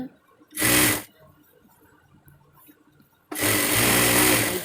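A sewing machine stitches piping onto a nightie in two loud bursts, a short run of about half a second and then a sustained run of more than a second, separated by a quiet pause.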